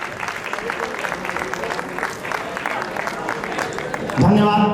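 An audience claps in welcome for a guest at a religious birthday celebration, dense steady applause throughout with a voice speaking over it near the end.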